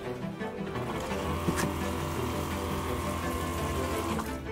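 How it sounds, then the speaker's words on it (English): Tap water running steadily into the sink of a camper van at an adventure van expo: a continuous, even splashing rush throughout, close by, with no talking. "instantly you have running water"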